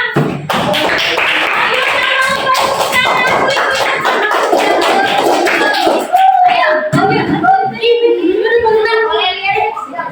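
Children in an Indonesian classroom clap their hands in short rhythmic patterns, the claps close and fairly loud, while young voices call and chatter throughout.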